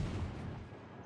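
Gunfire from the Worcester warship in a naval video game, a single low, heavy boom that rumbles and decays over about a second, fairly faint.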